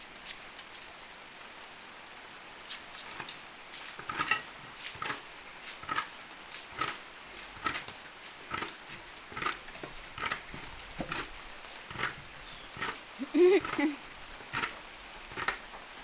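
Steady rain falls on a Philippine construction site where workers are building a house, a soft hiss with scattered patter and drips, moderately faint, with a brief voice near the end.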